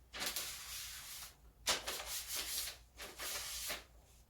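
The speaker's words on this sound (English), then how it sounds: "If you want to make it more sharp, you can do it for a little more time." A kitchen knife drawn across a Stadea whetstone in repeated long grinding strokes, a steady scraping rub with short pauses between passes, close and fairly quiet, no voices.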